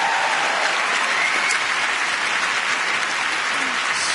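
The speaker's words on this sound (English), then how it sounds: "Please don't waste your sweet, generous applause on me." A large audience at the BAFTA film awards ceremony claps in a continuous, even wash. The applause stays loud and dense throughout, with no talk over it.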